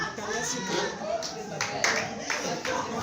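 A church congregation claps steadily during a seminar service, dense overlapping handclaps with voices mixed in throughout.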